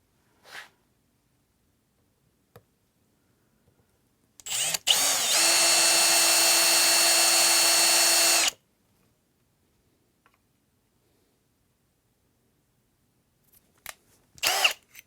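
Power drill driving a screw into a bottom plate for a DIY solar generator build, one loud steady whine lasting about four seconds, close, with scattered light clicks and handling taps before and after.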